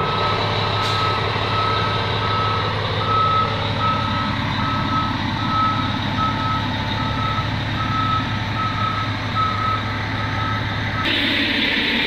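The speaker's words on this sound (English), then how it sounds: "Y'all gonna have to pardon the bus." A bus in a Jackson Hole, Wyoming parking area reverses nearby, its rhythmic reversing beeps repeating steadily over a loud idling diesel engine rumble.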